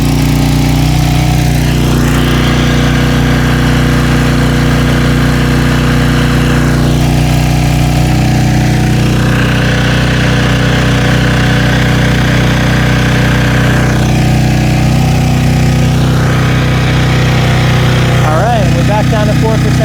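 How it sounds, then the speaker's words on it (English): A trashed Storm Responder portable generator engine runs steadily under load with a loud, continuous buzzing drone, its pitch rising and falling slightly as the load changes, with someone talking over it. "the engine speed's still a little high at 62"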